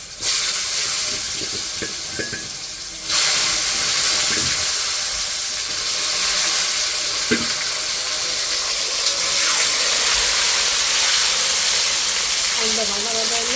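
Potatoes sizzling in hot oil in a pan, a continuous dense frying hiss throughout with occasional stirring clatter, and someone talking over it.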